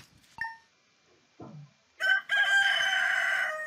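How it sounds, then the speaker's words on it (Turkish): Rooster crowing in the farming game Stardew Valley: a couple of short, soft calls, then a loud, drawn-out crow that holds steady for well over a second, clear and alone. "Bizim tavuğumuz yok. Tavuk ötüyor."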